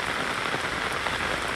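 Steady rain falling outdoors by a graveside, a dense unbroken hiss of drops striking surfaces, close and fairly loud, with no voices.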